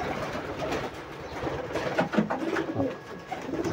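Pigeons in a new rooftop loft beside a balcony give repeated low cooing, close and steady, with soft rustling and shuffling underneath.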